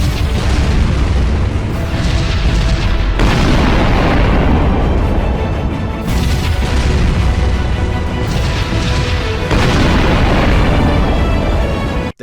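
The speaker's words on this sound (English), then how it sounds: "Prepare to fire the Vanguard cannon." Loud, heavy booming blasts from the Vanguard cannon in the video game Sunrider: Mask of Arcadius roll continuously, with several sharp cannon-like explosions bursting at intervals over a thick rumbling background.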